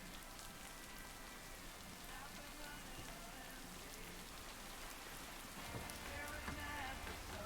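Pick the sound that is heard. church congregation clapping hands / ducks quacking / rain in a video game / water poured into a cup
rain in a video game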